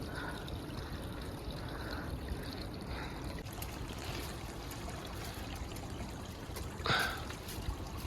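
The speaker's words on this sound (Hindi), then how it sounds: "यहाँ से हल्का हल्का पानी नीचे जा रहा है" Meltwater from mountain ice trickles gently downhill as a faint, continuous watery hiss with a few soft splashes, distant and quiet in an open outdoor setting.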